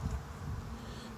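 Honeybees crowd a frame lifted from the hive during an inspection, a dense, steady buzz close by that holds unbroken throughout with no talking.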